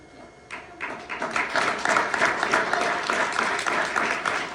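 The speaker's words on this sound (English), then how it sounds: "you gotta do that clap again louder" An audience applauds after a talk about a street-to-home homelessness program, a few claps rising quickly into sustained, moderately loud clapping from a room of people.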